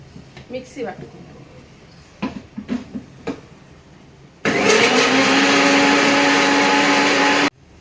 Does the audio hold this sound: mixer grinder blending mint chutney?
yes